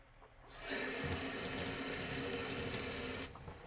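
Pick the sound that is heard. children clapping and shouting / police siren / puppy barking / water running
water running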